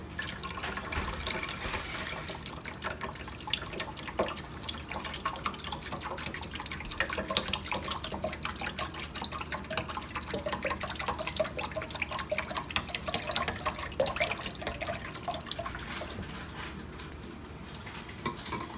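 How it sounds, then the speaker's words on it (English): Water pours steadily into a Keurig coffee maker reservoir during descaling, a continuous splashing trickle that runs unbroken for the whole stretch, with no voices. "So now I'm going to fill this up with water and then add that to the reservoir"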